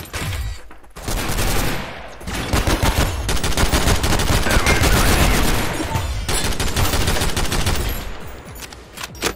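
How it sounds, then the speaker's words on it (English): Rapid automatic gunfire from a small deployable gun turret in the co-op shooter game SYNTHETIK: Legion Rising, loud sustained bursts of shots with brief pauses, mixed with other game combat noise and no talking. "my little gun turret is shooting it"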